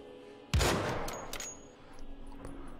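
A single powerful Bombenschuss gun shot in Wolfenstein: The Old Blood, a sharp booming blast followed by a rolling echo, then faint clinks and ambient game sounds.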